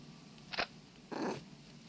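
A cat in a video game gives two short purring, meowing bursts close up, with a brief pause between them and no talk.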